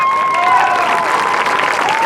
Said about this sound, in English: Let's give one more round of applause for the entire court.